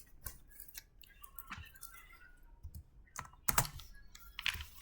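Close, irregular clicks and taps of typing on a computer keyboard during a C++ programming lecture, in uneven bursts with a few louder keystrokes and no talk.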